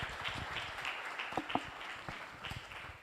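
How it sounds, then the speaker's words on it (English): Light applause from a conference audience after a paper presentation, a thin scattering of claps with a few sharper individual hits, fairly faint and brief. "And a big round of applause"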